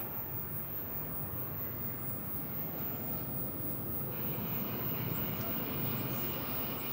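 An airliner taking off at DFW Airport gives a steady, broad jet roar that holds evenly throughout and swells slightly toward the end, heard from a distance outdoors with no talk over it.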